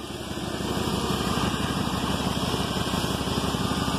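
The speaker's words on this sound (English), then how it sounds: "It's got a manifold leak, I'm thinking on the driver's side if I had to guess," 2001 Dodge Dakota with a 4.7L engine and an exhaust manifold leak, idling with a rapid, steady ticking putter and a constant whine, loud and close with no talking.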